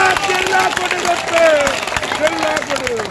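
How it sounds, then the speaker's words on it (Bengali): Crowd at a political rally clapping loudly and continuously at a fast, dense pace, with speech and cheering voices mixed over the applause. "একটা জোরে হাততালি দিন সবাই।"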